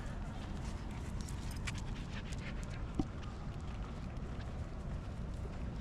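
A dog pants steadily and close by on an evening walking tour of a university campus, with a brief sharp tap partway through and an even outdoor hiss behind it.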